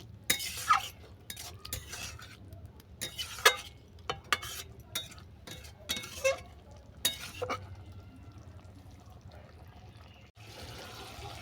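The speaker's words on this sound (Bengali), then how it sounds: "চিংড়ি মাছটাকে দিয়ে আরও দু মিনিট রান্না করে নেব" Prawns are stirred into sola kochu (giant taro) cooking in a pan, with spoon scrapes and clinks coming in irregular bursts over a faint background, closer at first and then thinning out.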